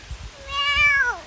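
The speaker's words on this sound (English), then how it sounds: "we hear you meowing" A single cat gives one drawn-out meow up close, rising and then falling in pitch over about a second, with faint low background noise and no talking.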